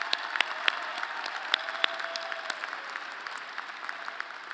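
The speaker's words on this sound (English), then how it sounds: "A round of applause for these remarkable students." At a fall commencement, a large audience applauds graduating students with a sustained, even rush of clapping, crisp individual claps standing out and the sound easing slightly toward the end.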